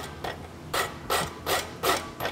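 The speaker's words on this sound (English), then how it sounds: "So now I'm gonna take and rasp the edge into the fuller part." Hand rasp worked over the edge of a forged steel horseshoe, fullered draft shoe at a blacksmith competition: five or six rhythmic, rough scraping strokes, close and fairly loud, with no talking.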